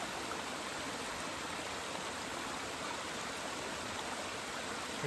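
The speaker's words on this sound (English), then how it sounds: "Nice little waterfall." Small waterfall along the Appalachian Trail in a green valley, a steady broadband rush of falling water that runs continuous and fairly close, with no breaks and no voices.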